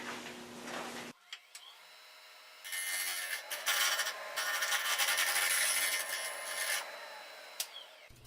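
Sandpaper wrapped around a 1-inch dowel rasps steadily against the inside of a segmented wooden bowl, a continuous close scratchy rubbing that runs for several seconds after a brief quieter start.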